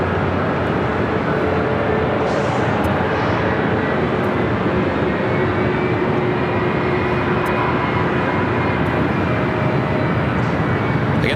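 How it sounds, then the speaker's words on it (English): A Delta Boeing 767-300ER airliner at Los Angeles airport gives a steady, loud broadband jet roar that holds constant throughout, with a faint tonal whine running through it. "this flight heading to Honolulu. It's a Delta 767-300ER."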